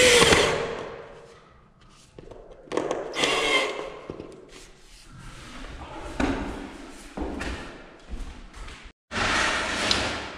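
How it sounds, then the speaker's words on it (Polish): Screws are driven into a ready-made curtain rail cover strip mounted at the ceiling, with short bursts of a power screwdriver, thumps and taps separated by pauses. "Wstępnie przykręcamy wszystkie śrubeczki"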